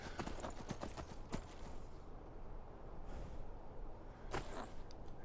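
Horse hooves clip-clop steadily in the video game Skyrim, a quick galloping rhythm with sharp transient hits, moderately close over a constant ambient bed, with a soft snort or whinny-like burst near the end.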